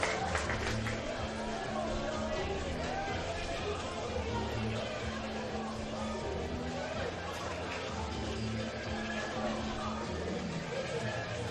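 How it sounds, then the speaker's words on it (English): Dense football crowd noise at a Heidelberg United versus Alamein women's league match, a steady roar of cheering, chatter and scattered clapping sustained loudly throughout. "And the crowd goes into a frenzy."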